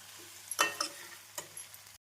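A spoon scrapes and stirs potato and pea curry masala in a pan just after coriander leaves go in, giving a few short close scrapes over a soft sizzle before it cuts off.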